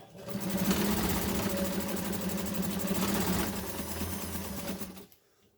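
Montgomery Ward Signature sewing machine running a zigzag stitch, a rapid, even mechanical chatter held steadily for about five seconds up close before it stops.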